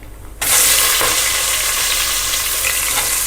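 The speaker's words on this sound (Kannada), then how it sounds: "ಎಣ್ಣೆ ಬಿಸಿಯಾಗಿದೆ. ಗೋಡಂಬಿ ಮತ್ತು ಪಲಾವ್ ಸಾಮಾನು ಹಾಕ್ಕೊಳ್ಳೋಣ." Cashews and pulao spices hit hot oil with a sudden loud sizzle that starts half a second in and keeps crackling steadily and close for the rest of the clip.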